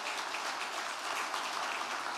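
Dense, continuous clapping from a crowd at a city's State of the City address, steady and fairly even throughout the short stretch.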